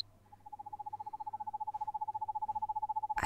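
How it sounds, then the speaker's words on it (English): Owl in the video game Perception gives a steady, rapid pulsing hoot held at one pitch for about three seconds, clear and alone, ending in a brief burst of noise. "I think I need to follow the owl."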